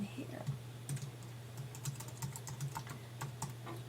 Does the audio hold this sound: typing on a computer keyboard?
yes